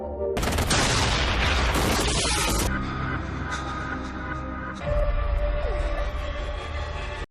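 Battle gunfire rattles in dense bursts, then a heavy, rumbling barrage continues under a wailing siren-like tone, loud and chaotic.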